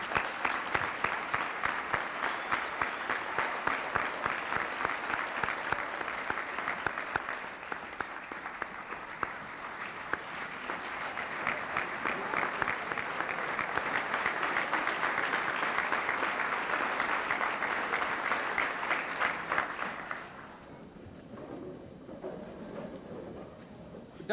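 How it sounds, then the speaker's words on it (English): A crowded banquet room at a university fraternity's 50th anniversary celebration breaks into long, loud applause for the house mother, with sustained dense clapping that fades after about twenty seconds into quieter room noise. "You deserve another round of applause."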